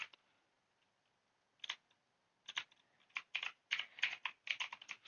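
Keys clatter on a computer keyboard as HTML is typed into a file on a Raspberry Pi, faint close clicks starting sparsely and then coming in quick irregular bursts.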